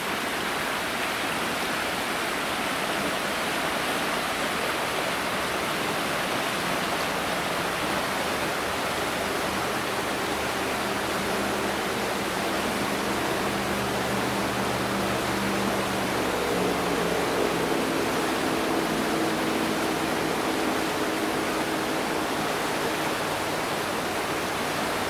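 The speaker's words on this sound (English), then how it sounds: "Creek." Continuous rushing creek water in Blakeslee, Pennsylvania, an even broadband splash and hiss that stays steady and close for the whole stretch.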